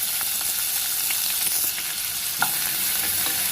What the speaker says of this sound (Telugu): వీటిని కలుపుకుంటూ కొద్దిగా మెత్తబడేంత వరకు ఉల్లిపాయల్ని వేయించుకోవాలి.